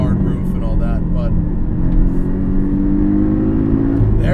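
A manual Porsche 718 Cayman S engine pulls hard from inside the cabin, its drone climbing gradually in pitch as it revs higher, with someone talking over it.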